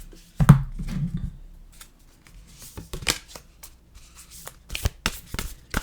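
Oracle cards from a deck being shuffled by hand, a quick burst of riffling and then a string of scattered light flicks and taps, close up, with no voices.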